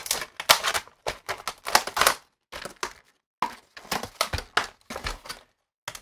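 Scissors snipping through plastic packaging of a Monster iCarPlay 800 cassette adapter, a series of sharp, close cutting crunches in irregular bursts separated by short silences, with no talking.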